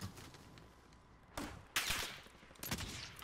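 Three short, loud bursts of video game gunfire sound close over a quiet backdrop, each a sharp crack with a brief tail.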